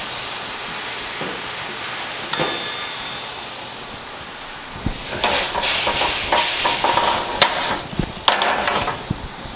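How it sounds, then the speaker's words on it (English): Brandy sizzles in a pan with shrimp and squash, a steady hiss broken by utensil clacks and scrapes that grow busier and louder in the second half as the food is stirred. "now that I got the brandy in there, I'm gonna let it cook off the alcohol a little bit"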